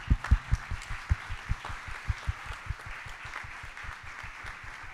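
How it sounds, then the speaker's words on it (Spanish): Audience applause at the opening session of an Argentine academic conference on programming didactics, with distinct claps in a lively burst that thins out and fades toward the end. "Así que vamos a aplaudirla a Araceli."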